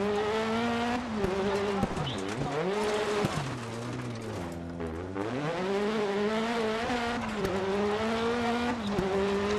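Rally car engine in the game Dirt Rally roaring continuously, pitch sweeping up and down through gear changes, with occasional tire squeal, loud and close throughout.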